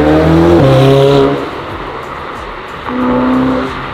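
A Ferrari 488 Pista with stock exhaust revs loudly up close, a high engine note rising then dropping away, followed by a second shorter rev after a brief lull.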